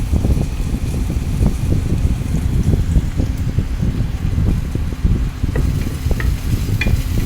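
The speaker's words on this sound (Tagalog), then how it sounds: "Halu-haluin natin yan. Hayaan nating mag-brown at nang kumapit ang aroma sa ating niluluto." Garlic and other aromatics sauté in a pan for chicken sinampalukan, a loud, close, dense sizzle with constant rough scraping and knocking from stirring and no voices.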